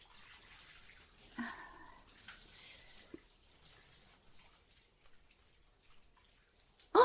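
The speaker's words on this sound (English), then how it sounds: "Probably can't even hear me with this water." Shower water runs in a faint, steady hiss, with a few brief splashes and knocks and a sharp bump at the very end.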